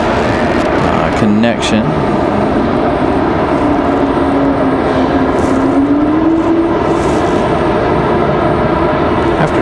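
A Republic Airways Embraer E175LR jet departing Raleigh Durham for JFK gives a loud, steady engine roar throughout, with a rising-and-falling tonal whine, and a person talks briefly near the start.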